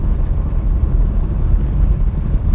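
A Talbot Solara car drives over a brick road surface at around 50 km/h. A steady low engine and road rumble is heard up close from inside the car, continuous for the whole stretch, with no talking.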